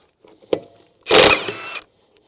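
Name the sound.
Milwaukee M18 FUEL impact wrench in bolt removal mode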